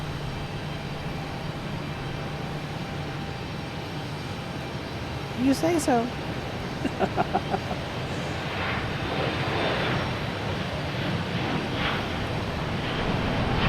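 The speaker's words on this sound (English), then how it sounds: "The Flying Pencil, that's this plane's nickname." A long, slender American Airlines jet at Boston Logan Airport gives off a steady roar of engines and wind, rising gently toward the end, while people talk in the foreground and brief tones sound midway.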